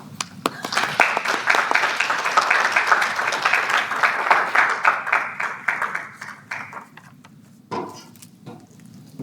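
An audience applauds a speaker named Denise as she comes to the stage, a dense, steady burst of many hands clapping that thins out after about six seconds, leaving a few scattered claps and some quiet movement.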